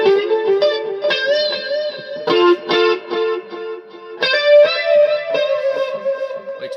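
Electric guitar played on a gold top Les Paul with P90 pickups, run through a heavy echo effect so that each picked note and chord repeats and smears into the next, loud and up close with no voice.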